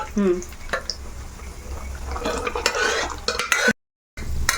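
A spoon stirs sago into a pot of bubbling coconut payasam, scraping, with soft clinks and a steady simmering hiss, then a brief silence.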